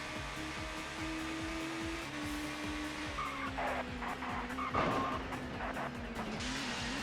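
Race car engine in ToCA Touring Car Championship at Knockhill drones steadily at high revs while tires skid and squeal, the engine pitch sliding as the car fails to slow, with a brief louder scrape near the middle.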